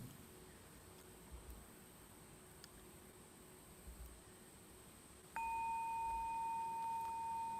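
A clear bell tone strikes after a quiet stretch of low background hiss, then rings on steadily with a sustained, pure pitch.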